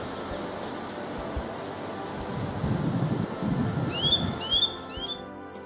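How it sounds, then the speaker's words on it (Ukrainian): Song thrush song rings out in bright repeated phrases of quick whistles and trills over a soft outdoor background, moderately close. "А ось дріс співучий. Він прилітає раніше. Послухайте, як він співає."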